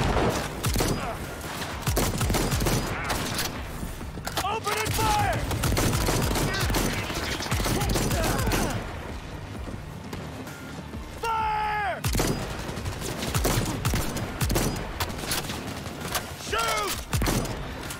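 Rapid gunfire bursts and clattering mechanical noises in the video game Cyberpunk, dense and continuous, with a few brief voice-like calls over the shooting.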